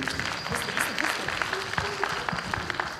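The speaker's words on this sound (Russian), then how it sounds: "Под бурные аплодисменты." Applause from the audience at a quarterfinal of a comedy team league, scattered claps in a busy hall with voices talking over them.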